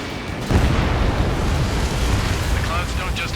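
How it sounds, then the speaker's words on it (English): A missile strikes its target in the Ace Combat 7 flight combat game, producing a loud, roaring explosion with a dense rushing, wind-like rumble that holds steady across the whole clip. "Missile hit."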